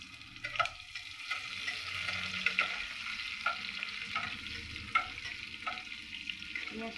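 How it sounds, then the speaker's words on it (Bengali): Onions sizzle in a pan while being stirred toward brown for aloo dum, giving a steady close frying hiss broken by repeated scraping stir strokes, with no voices. "পেঁয়াজটা একটু ব্রাউন কালার অবধি আমাকে ফ্রাই করতে হবে।"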